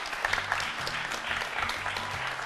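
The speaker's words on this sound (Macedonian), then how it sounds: "Еден аплауз за струмичани." A studio audience gives steady, moderately loud applause for visiting students from the Jane Sandanski gymnasium in Strumica, with low music playing underneath.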